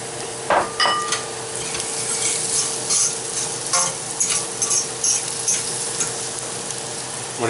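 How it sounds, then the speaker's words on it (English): Onion hits hot oil in a pan with a lively, close sizzle and crackle, broken by repeated scraping knocks of a utensil stirring against the pan. Nobody talks. "Now, I get a little more oil in. And I'm going to get my onion in."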